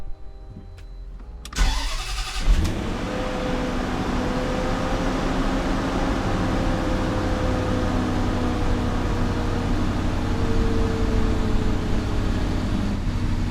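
A supercharged Range Rover with a newly replaced PCV valve cranks and catches, then settles into a steady, even idle. The idle is a loud, close, continuous hum with a smooth low drone and no talking.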